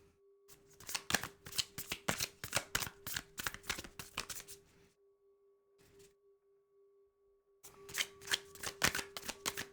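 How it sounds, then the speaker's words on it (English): Tarot cards being shuffled by hand, a rapid riffling flutter in two bursts separated by a short pause with a brief tap between, close and fairly quiet with a faint steady hum underneath. "Let me shuffle this other way. The cards mixed up a little bit more."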